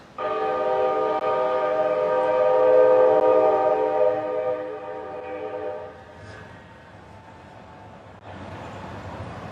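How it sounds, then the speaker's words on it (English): A loud, sustained train horn blares for several seconds during an outdoor press conference, then fades away, leaving rumbling rail noise and a brief higher tone. "how nice for the train to give me a shout out"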